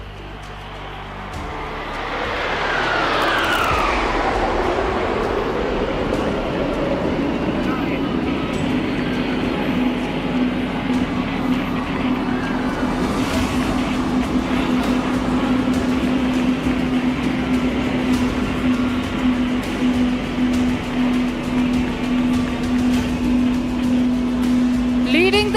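Jets of the Indian Air Force's Surya Kiran aerobatic team roar overhead at an air show, a swelling rush with a falling whine as they dive past, then a sustained loud drone and steady tone, with a crowd-filled outdoor setting.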